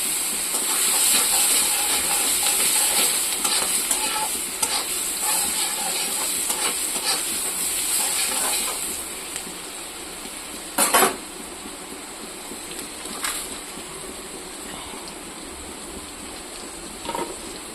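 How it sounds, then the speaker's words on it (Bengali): Dried chili, black cumin and onion sizzle in hot oil, a steady bright hiss with occasional clinks of a utensil against the pan, loudest early then settling lower. "এই তেলেই এখন আমি দিয়ে দিব এখানে শুকনো লঙ্কা, আর দেব কালো জিরে, আর দেব অল্প পেঁয়াজ"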